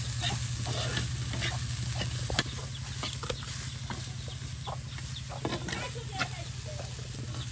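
Mixed leafy greens frying in a pan in a village kitchen, a steady sizzle with stirring scrapes and scattered clicks, chickens clucking nearby in the background.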